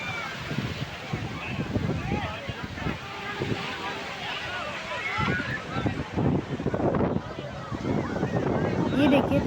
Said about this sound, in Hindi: आज समुद्र देवता की लहरें काफ़ी तेज हैं।